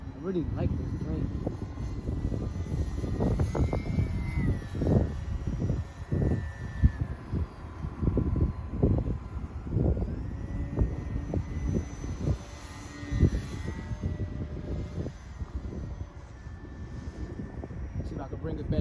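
A small foam model propeller airplane drones overhead, its pitch rising and falling as it passes, with someone talking intermittently over the engine.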